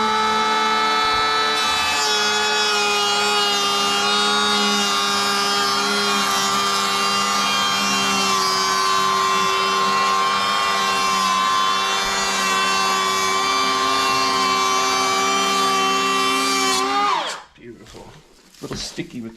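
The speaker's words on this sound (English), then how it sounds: "Now I just have to plane it. So let's fire this thing up." A DeWalt 20v cordless power planer shaves a painted door in one long, loud, steady whine with a strong tonal hum, running close for about seventeen seconds before spinning down to faint handling noises.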